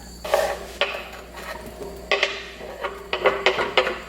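Chopped onions sautéing in olive oil in a pan, heard as close, repeated clinks and scrapes of a utensil against the pan with a soft sizzle beneath, coming in uneven bursts.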